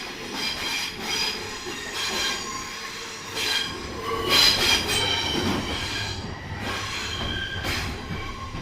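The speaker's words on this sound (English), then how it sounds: "after that train has made its own dubstep" A class 321 electric train rumbles through a tunnel, its wheels squealing in rising and falling metallic whines over a steady low roar, fairly close.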